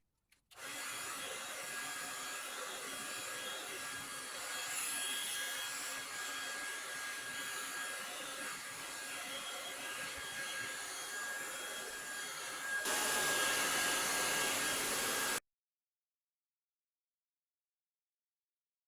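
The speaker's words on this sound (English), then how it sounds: "you just get the hairdryer on it a few times" A hair dryer blows on a PC AIO cooler radiator with a steady, whooshing roar for about fifteen seconds, rising slightly near the end before cutting off into silence.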